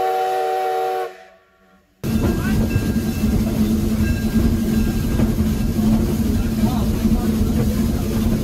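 A harmonic steam whistle sounds, breaks off into brief near-silence, then a 2-6-2ST saddle-tank steam locomotive, Robert Dollar Co. #3, rumbles and hisses steadily with chuffing on the Niles Canyon Railway.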